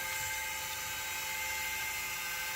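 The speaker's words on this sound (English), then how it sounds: "you just sand it down to the line" Steady, continuous whine of a sanding tool working the ears of a prop helmet, close and unbroken throughout.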